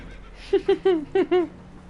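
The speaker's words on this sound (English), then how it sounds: "Horses are spooked, and we're taking on water." Spooked horses in Red Dead Redemption 2 whinny in five short, wavering bursts close by, rising and falling over a low rumble of game ambience, with no talk over them.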